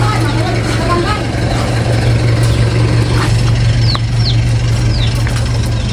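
A motorcycle engine idles steadily and close by on a farm where processed corn is being loaded onto the bike, with a constant low hum and a few faint chirps and no clear speech.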